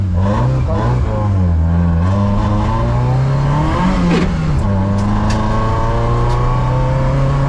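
A race car passes on the Curborough sprint track, its engine loud and steady with rising and falling revs as it goes by close.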